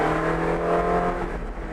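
A Ferrari 458 Speciale V8 revs hard toward 5,000 RPM, its loud, close engine note building steadily and holding a dense, harmonic roar throughout.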